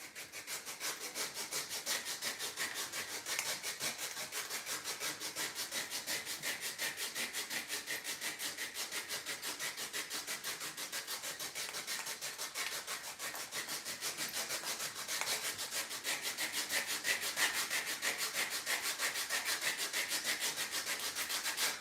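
A gentle foot file rasps steadily over the skin of a foot in fast, even strokes, a soft continuous scraping like light sandpaper held close, with no talking.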